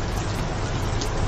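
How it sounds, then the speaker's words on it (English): Light rain falling outdoors at a Key West saloon during a stormy spell, a steady soft hiss of drops with a low hum beneath, even and unbroken throughout, with no voices. "It's raining a little bit"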